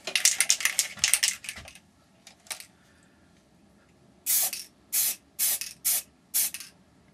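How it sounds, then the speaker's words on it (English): Several short hissing bursts from a spray paint can on a plastic model kit, first a quick cluster, then five separate evenly spaced blasts after a pause, fairly close. "Spray cans are better than I remember."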